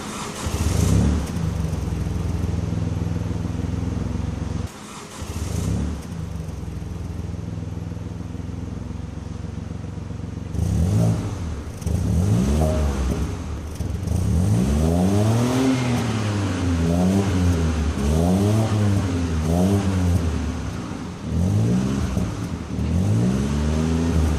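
A BMW X1's three-cylinder engine idling, then revving up and down repeatedly, its pitch sweeping in rising and falling waves, close and loud.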